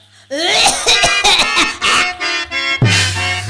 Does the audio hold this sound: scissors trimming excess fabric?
no